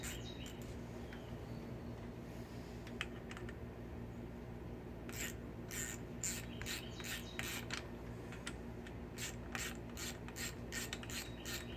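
A torque wrench ratchets on the clutch bolts of a Honda Shadow motorcycle, producing faint intermittent clicking bursts over a quiet background, the clicks growing more frequent in the second half.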